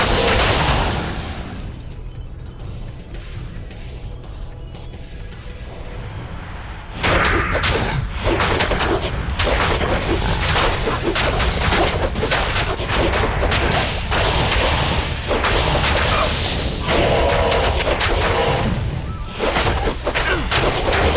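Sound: Bone Spear and Holy Bolt spell effects, Diablo II video game

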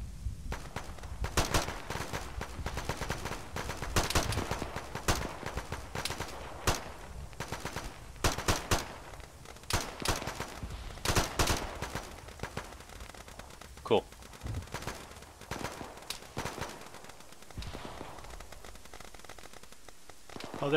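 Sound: gunfire in a ShackTac military video game

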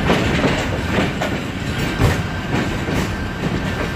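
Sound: train arriving at KPD railway station, Karachi

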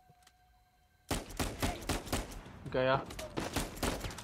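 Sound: gunfire in Uncharted 4, video game

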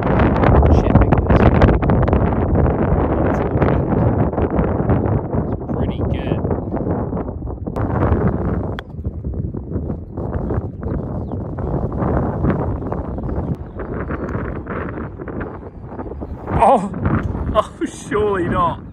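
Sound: strong wind on a golf course

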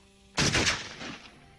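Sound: gunshot

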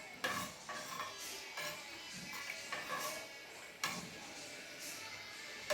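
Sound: stirring millet sambar rice in a pot

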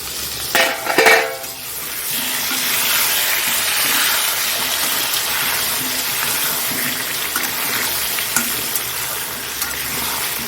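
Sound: chicken and potatoes frying with garlic paste, stirred

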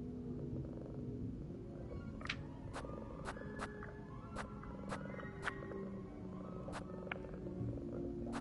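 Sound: cat purring

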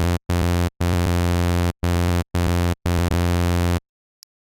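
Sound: big jumping synth bass recreating a song

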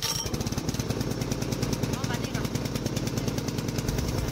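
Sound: pull-started engine of a radio control mowing robot running

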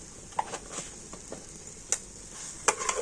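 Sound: stirring semolina and milk into a stiff dough

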